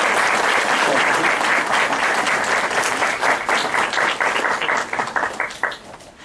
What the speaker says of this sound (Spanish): les voy a pedir un aplauso para el doctor Medina